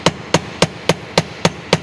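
Hammer blows flattening copper wire for jewelry making, seven sharp metallic strikes in a steady, even rhythm, close and loud with short pauses between each hit.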